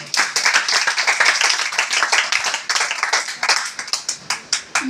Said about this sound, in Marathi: समन्यू साठी जोरदार टाळ्या वाजवा